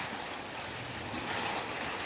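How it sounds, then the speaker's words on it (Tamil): Steady rain patters down in an even, continuous hiss, moderately loud and close, with no voices over it. "தெரியுதுங்களா மழை?"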